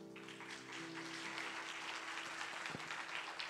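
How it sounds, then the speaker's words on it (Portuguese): Applause from a church congregation at a midweek prophetic worship service, a steady wash of clapping with a low hum of organ or keyboard tones beneath it and a brief low thump near the end. "Aplaudir o Senhor pela vida do Duda"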